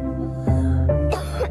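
A single person gives a few short, dry coughs close up, with a throat-clearing rasp between them.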